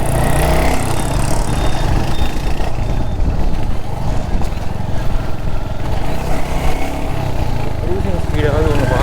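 A Royal Enfield Hunter 350 motorcycle being ridden at cruising speed, a loud steady engine drone mixed with wind rush, continuous and close, with the rider talking over it.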